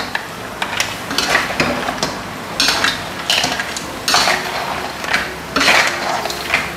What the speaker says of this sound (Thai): ให้เราใส่ซอสผัดผงกะหรี่ลงไปเลยนะครับ จากนั้นก็ผัดให้เข้ากันนะครับ